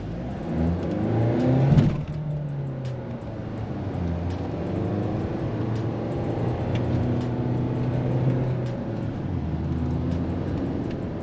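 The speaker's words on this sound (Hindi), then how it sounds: "यहाँ से पहले कार को आपको मैं लॉन्च करके दिखाता हूँ। Raving till 3000 RPM," A 2025 Mahindra XUV700 diesel launches from a standstill on a main road, revving to about 3000 RPM: a brief loud surge of engine noise, then a steady interior drone and road rumble as the car pulls away.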